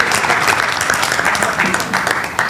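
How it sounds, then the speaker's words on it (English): Loud, close applause from the audience at a two-day Tax Conclave 2023, a dense continuous wash of many hands clapping throughout the short stretch. "A big round of applause to Sir."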